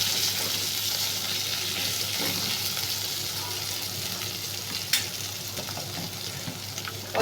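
Six or seven garlic cloves frying in oil in a pan alongside slit green chillies, a steady bright sizzle with a soft clink near the middle.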